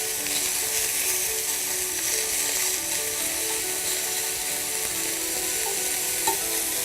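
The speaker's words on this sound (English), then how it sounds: "making sure any kind of not brown surfaces do get contact with the pan, so then it's, you know, quite evenly caramelized" Pork meatballs frying in a pan, a steady bright sizzle with scraping and stirring sounds running throughout, close and even in loudness, without speech.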